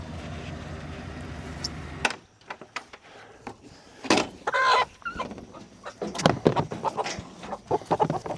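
Chickens on pasture cluck and squawk near a mobile chicken tractor, bursts of clucking rising irregularly over a low hum, with a steady background drone in the first two seconds.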